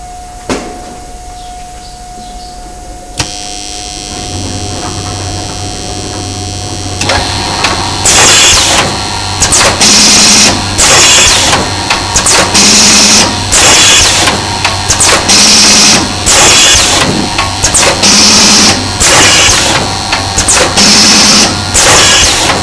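An automatic paper cone making machine runs empty without paper, first as a steady hum, then as a loud, fast, repeating mechanical clatter of thumps and hisses in a regular cycle.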